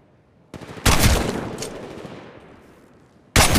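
Loud bursts of automatic gunfire in Apex Legends Mobile, a sustained volley that rings out and decays, then a fresh burst at the end, with no voices.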